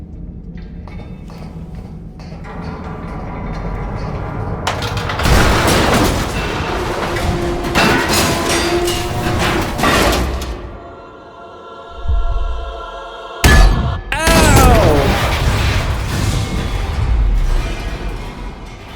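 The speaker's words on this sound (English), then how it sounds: "It sounds like this whole thing is gonna give way." A collapsing structure in the video game Detroit: Become Human gives off heavy rumbling with creaks, thuds and clattering debris, loud and continuous with surging bursts and a short lull.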